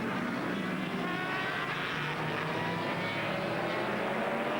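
American Le Mans Series race cars, among them factory Audi, Panoz and BMW prototypes, roar away from a rolling start on a dry track under threatening skies, a dense, loud, sustained wash of engine noise with no voices.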